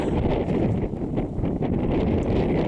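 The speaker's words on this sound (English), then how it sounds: "some gusts of wind coming up now" Gusts of wind buffet the microphone on an allotment garden, a rough, rumbling roar that rises and dips in waves for a few seconds.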